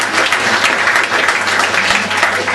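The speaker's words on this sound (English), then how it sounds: "A round of applause please for Freya." Steady audience applause at a book launch, loud and dense throughout, with a faint low hum beneath the clapping.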